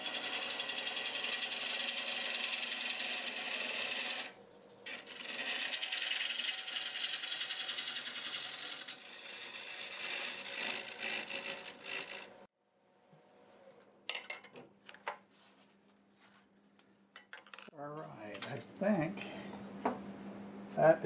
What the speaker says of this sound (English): I've got a half inch hole gouge.